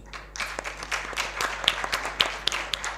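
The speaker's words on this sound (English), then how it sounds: "Ladies and gentlemen, one more round of applause for our panel" Conference audience applauding a panel at an intellectual property event, a dense patter of many hands clapping with sharp individual claps, moderately loud and steady with no talk.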